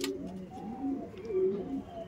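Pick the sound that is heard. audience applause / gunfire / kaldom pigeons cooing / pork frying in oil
kaldom pigeons cooing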